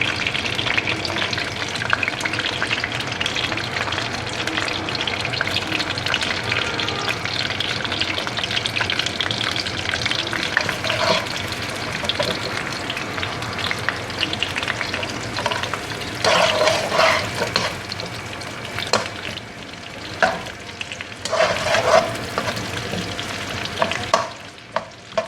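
Onions frying in oil in a kadai as the masala for dal mash, a steady broadband sizzle with occasional stirring scrapes and spatters, close and continuous with no talking.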